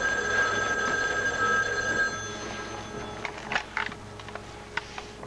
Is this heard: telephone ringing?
yes